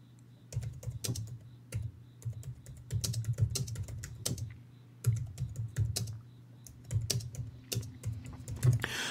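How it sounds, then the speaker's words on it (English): Steady typing on a computer keyboard, close up, with bursts of rapid key clicks broken by short pauses and no talking. "My typing's really slow."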